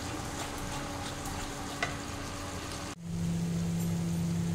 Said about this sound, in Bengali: আবারও যতক্ষণ না তেল ছেড়ে বেরোবে ততক্ষণ অবধি আমি এটাকে ভালোভাবে কষাতে থাকবো